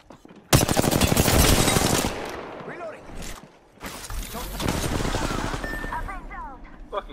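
Gunfire in Apex Legends, with a sudden loud burst of rapid shots followed by further intermittent firing and game effects, close and intense, with quieter pauses between bursts.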